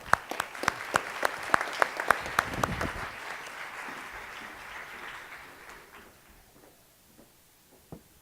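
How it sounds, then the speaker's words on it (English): A small audience at a talk gives applause, a few seconds of distinct, close claps that thin out and fade, followed by quieter room sound and a single late clap. "Guys, give them a round of applause."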